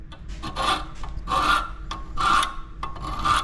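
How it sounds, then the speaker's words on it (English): A hand file rasps back and forth over a blunt tool edge in four steady strokes with a gritty, scraping tone, close up and without speech. "just on the file, just trying to sharpen it up a little bit"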